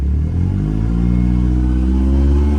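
A Yamaha 70 outboard motor with low-voltage charging trouble runs just under idle, a loud, steady close mechanical drone whose pitch creeps slightly upward, with no voices.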